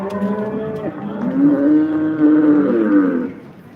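A young calf at a cattle market lets out one long, drawn-out moo, loud and close, rising and wavering before trailing off.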